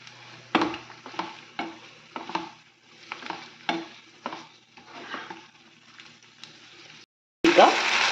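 Paneer cubes are stirred into cornflour water in a pan: about a dozen rhythmic scraping, sloshing strokes, each a distinct swish, with a brief pause, then a louder sizzling burst at the end.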